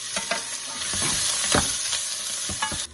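Onion, garlic and ginger sauté together in a pan for a Kerala-style mushroom varattiyathu, giving a steady close sizzle and hiss with repeated scrapes of a spoon stirring through the pan, no voices.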